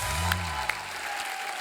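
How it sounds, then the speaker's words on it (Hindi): Studio audience at The Kapil Sharma Show applauding the guests, a faint, even spread of clapping with a few sharper claps and a low hum underneath. "एक बार जोरदार तालियां हमारे मेहमानों के लिए।"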